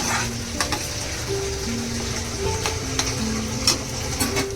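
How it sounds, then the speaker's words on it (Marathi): Masala being stirred and sautéed in oil in a pan for a vegetarian thali, a steady close sizzle with sharp scraping clinks of a spoon against the pan, no talking. "चांगला हलवून घेऊया आपण मसाला पण आपला चांगला परतून घेऊया"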